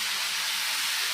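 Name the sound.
boiling water poured onto fried mung dal and dalia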